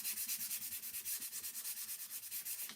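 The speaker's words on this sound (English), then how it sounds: "we're just smoothing out our little rough wood" Rough wood that had been antique waxed is hand-sanded, steady rhythmic back-and-forth rasping strokes, close and clear with no talk.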